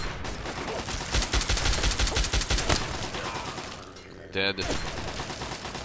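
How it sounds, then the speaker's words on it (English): Assault rifle and automated turret gunfire in the video game Fallout 3, rapid repeated bursts of shots loud in the first half, fading, then a short sharp tonal sound, with someone speaking briefly. "The turret's still shooting at it."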